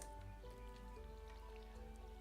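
Freezing rain in the farming game Stardew Valley makes a faint, steady patter of drops under soft tonal game music, with no voices.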